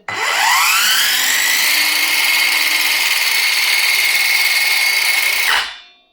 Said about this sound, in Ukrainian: послухаємо, як ця чудо-циркулярна пила буде працювати